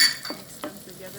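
Diced garlic and ginger fry in a pan as a utensil stirs them, giving a soft sizzle with two or three quick scrapes, brief and close, with no voices.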